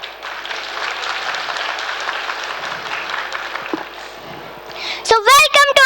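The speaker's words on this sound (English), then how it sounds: "So let's give a big round of applause for these little warriors" An audience at a school annual day show applauds in a dense, steady wash of clapping for about five seconds, then it fades and a voice speaks loudly through a microphone.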